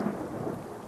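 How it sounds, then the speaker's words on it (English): Thunder and torrential rain outside a wedding: a steady, dense rumble of heavy rain with a deep roll of thunder underneath, continuous and enveloping throughout. "Thunder and torrential rain marred the hastily arranged wedding"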